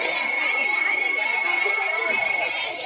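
A school audience at an annual function chatters as a dense, continuous crowd murmur, loud and steady, with a thin high electronic tone running through it.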